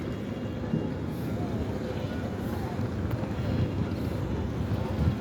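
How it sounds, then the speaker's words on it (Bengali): A boat turning on a river beneath a bridge, with heavy wind buffeting the microphone, a low rumbling wash of water and engine noise, and people talking nearby. "নৌকা ঘোরাচ্ছে"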